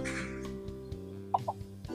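Chickens and roosters cluck in short, scattered bursts close by, with a low mechanical hum running steadily underneath.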